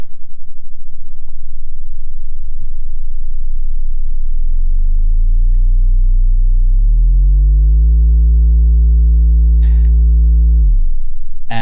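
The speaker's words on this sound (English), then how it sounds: "That's the sine wave" A loud, steady low sine tone from a TWO59 oscillator in its low range, gliding upward in steps, holding high, then dropping sharply back down, with faint clicks along the way.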